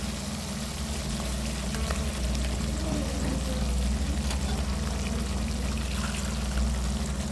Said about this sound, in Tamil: இந்த அளவுக்கு காய் வெந்ததுக்கப்புறம் பேஸ்ட்டு ஊற்றிக்கலாம்